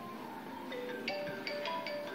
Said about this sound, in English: Here you can select this ringtone directly to put in your ringtone song.